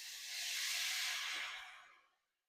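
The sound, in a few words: coconut milk poured into hot pan with garlic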